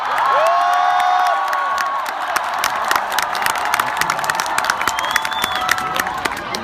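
A large outdoor university festival crowd cheers and shouts for the singer, a dense sustained roar with whoops and scattered claps that stays loud throughout.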